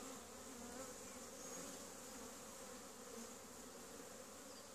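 Honeybees buzz steadily around a strong beehive as the colony is smoked back inside during honey super placement with a queen excluder, a dense continuous hum close by with no voices.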